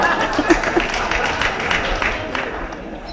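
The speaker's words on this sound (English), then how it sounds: "Are they clapping because Jeff is leaving?" Applause from an audience at a workplace talk or farewell gathering, a steady patter of many hands clapping through the whole stretch, with murmured crowd noise mixed in.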